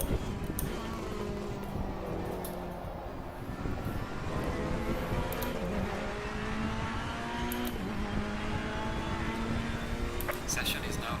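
GT3 race cars circling a circuit in Assetto Corsa Competizione, engines droning steadily with rising and falling pitch as the field runs under green flags, a continuous dense roar with a commentator's voice talking over it throughout.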